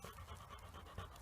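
A dog pants in a cemetery, a soft quick rhythmic breathing at low level throughout, close by and with no talking.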